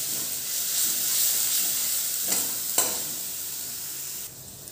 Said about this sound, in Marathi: लसूण, मिरची, आलं, तेलात चांगली ती फ्राय करायची पेस्ट